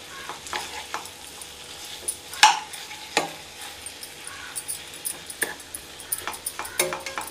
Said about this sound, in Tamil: ஒரு 5 நிமிஷம் இந்த எண்ணெயிலே வதங்கட்டும்